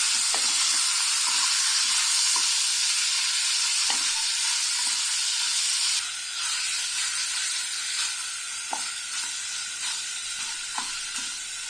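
Spices with salt and turmeric sizzle steadily in a pan for chicken pulao, a loud bright hiss with occasional scraping taps of a spoon, easing slightly midway, no talking.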